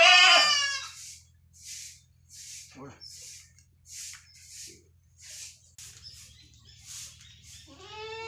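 Goats on a goat farm bleat during deworming: a loud, wavering bleat opens, then shorter calls recur every second or so over a low steady hum, and another bleat rises at the end.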